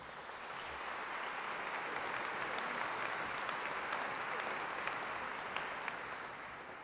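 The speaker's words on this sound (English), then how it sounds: "Let's have a round of applause for them." Sustained applause from a school awards ceremony audience, steady clapping throughout with no talk.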